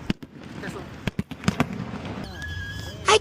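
Fireworks crack and pop in a rapid, irregular series of sharp bursts near a village of stray dogs, several loud reports followed by a denser crackle at the end, with voices audible between the bangs.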